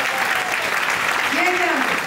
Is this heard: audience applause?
yes